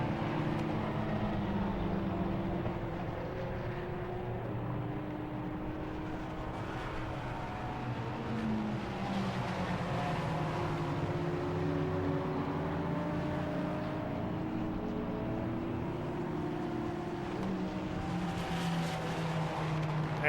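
Race cars, including a blue and gold Praga and a Lamborghini, circle Silverstone circuit in an endurance race, engines whining and shifting pitch as several cars pass at moderate distance in a continuous layered roar.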